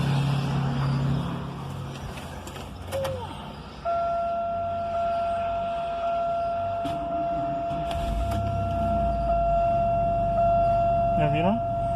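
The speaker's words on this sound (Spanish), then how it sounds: "vamos a arrancar el carro para que vean que todo está perfecto" A Pontiac Grand Am starts up and settles into a steady idle after work on its IAC valve. A rising whine is followed by a constant tone and a low engine hum, with someone talking now and then.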